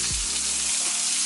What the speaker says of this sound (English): we're just gonna leave this and let it saute for about 5 minutes